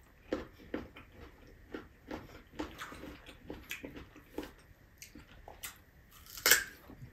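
Bites and chewing of unripe green mango at a Filipino meal, a run of close, soft crunchy chews and bites with one sharper crunch near the end, no talking.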